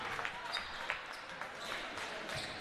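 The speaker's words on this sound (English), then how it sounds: "get a nice ovation from the Hill City home crowd" A home crowd at a high school basketball game in Hill City claps in a warm ovation for players checking out of the game. Steady, moderately distant applause fills the gym while a voice talks faintly underneath.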